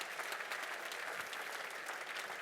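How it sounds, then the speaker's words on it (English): Steady applause from a crowd at a motorcycle press conference at EICMA 2017, dense overlapping clapping that stays loud and even throughout. "a big hand of applause"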